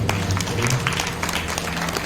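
Steady crowd applause at a Bhagavat Katha religious gathering, dense and continuous throughout, with a low murmur of voices underneath.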